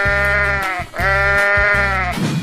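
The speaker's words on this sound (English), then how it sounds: "Sheep," Cartoon sheep bleats twice in a row, loud, wavering and nasal, with a strong drone-like backing music under each call.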